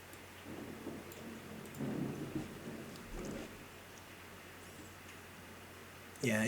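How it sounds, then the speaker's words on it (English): Thunder rumbles low and distant, with a couple of soft rolling swells and faint rain in the background, then a louder sharp crackle right at the end. "Yeah, it's thunder. It's thundering."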